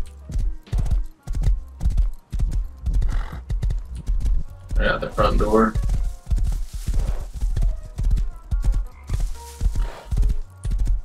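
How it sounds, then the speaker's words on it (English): Rapid hoofbeats of a galloping horse in a multiplayer survival game during a chase, steady and prominent with a brief whinny partway through, under urgent voices of players talking. "Go horse."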